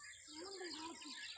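Birds call at a lake where flamingos gather, a faint chirping tweet rising over light background noise in a short burst.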